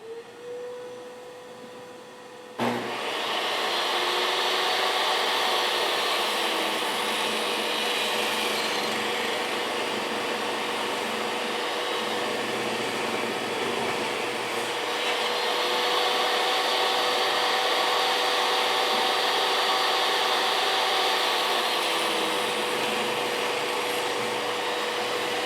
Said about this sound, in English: Dust collection.